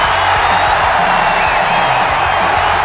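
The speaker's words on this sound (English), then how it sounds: "We got the crowd into it. The crowd's loving it. The crowd loves the goofiness." A wrestling crowd cheering in an arena, a dense, steady roar of many voices with whoops rising above it, loud and continuous throughout.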